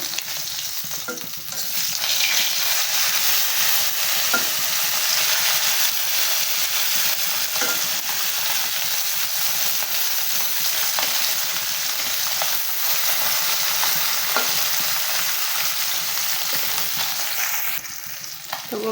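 Koi fish crackle and spit in a hot wok, a loud, unbroken sizzle up close with faint scraping as pieces are stirred and turned.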